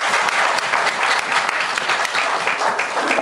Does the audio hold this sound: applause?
yes